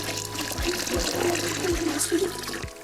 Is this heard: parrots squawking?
no